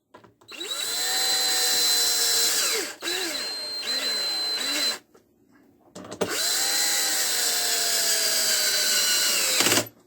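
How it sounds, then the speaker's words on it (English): A power drill driving screws whines in long steady bursts, stopping briefly between runs, close and loud with no talking. "So to put them back, we've set the clutch on the drill to pretty light."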